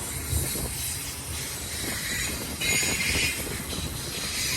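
A long freight train rumbles past steadily on BNSF track in Southern California's Cajon subdivision, with a broad hissing roar and faint squealing wheels, no voices.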